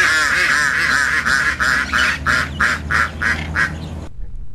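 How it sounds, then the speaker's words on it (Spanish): Domestic ducks at a municipal aviary, kept alongside peafowl and parakeets, quack in a loud, steady run of about eight close calls that stops abruptly near the end. "En el lugar se pueden apreciar patos domésticos, pavos reales y cotorros"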